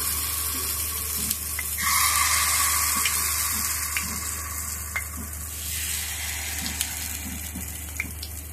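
Appe batter drops into a hot appe pan and sizzles loudly and close. Stirring clicks and a few sharp taps from a spoon on the metal cut through a steady frying hiss.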